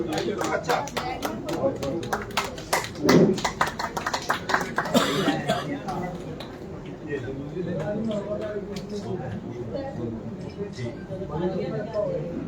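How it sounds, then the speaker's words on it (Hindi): Audience clapping at a Hindustani-language poetry award and felicitation ceremony, a burst of applause in the first few seconds with coughing nearby, then fading into murmured chatter and talk from the hall. "हाँ देखिए तालियां नहीं रुकनी चाहिए आपकी।"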